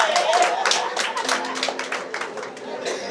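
Audience clapping at an African diaspora awards forum honouring influential figures, a steady patter of many hands in a hall, moderately loud and slowly easing, with a low hum and faint voices mixed in.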